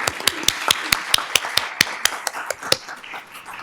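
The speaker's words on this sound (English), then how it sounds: "We'll clap." At a school district board meeting, a few people clap in a sparse, uneven rhythm of distinct sharp claps, moderately close in a quiet room, tapering off after a few seconds.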